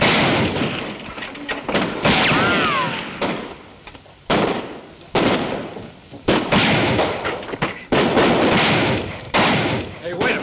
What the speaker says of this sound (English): What are we shooting at her for?